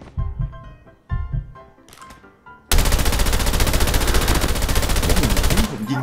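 Gunfire in the Call of Duty Mobile game: a few separate sharp shots, then a long loud burst of rapid automatic fire lasting several seconds, close and dominant.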